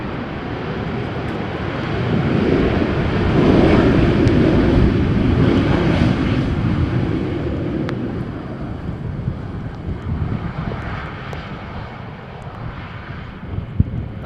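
A crosswind arrival at Amsterdam Schiphol after a storm: an airliner's roar swells as thrust reversers kick in, then fades into a long, rumbling rollout with wind buffeting the microphone.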